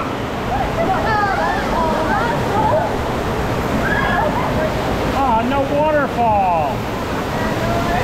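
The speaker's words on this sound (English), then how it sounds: "Waterfall." Rushing water from a waterfall beside a roller coaster at a theme park, a loud steady splashing roar throughout, with excited riders shouting and talking over it.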